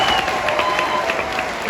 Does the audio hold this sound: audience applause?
yes